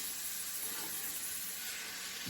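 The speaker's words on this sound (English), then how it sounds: "This is going to cook until the onions are soft." Onions sizzling in a pan for a kale and wild rice casserole, giving a steady, faint hiss with no voices.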